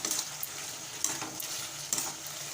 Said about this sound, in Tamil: நல்லா மசாலா காலிஃப்ளவரில் ஊற்றணும்.